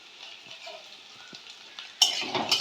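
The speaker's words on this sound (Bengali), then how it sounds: "তেল গরম হয়ে গেছে, সবার আগে আমি পেঁয়াজটা ভালো করে ভেজে নেব" Sliced onion drops into hot oil in a pan and bursts into a sudden loud sizzle after a quiet stretch of faint kitchen clinks, the crackle then holding steady up close.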